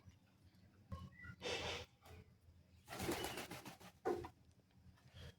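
Pigeons at a pigeon farm, with soft coos and rustling wing flaps in short bursts nearby, standing out against a quiet background.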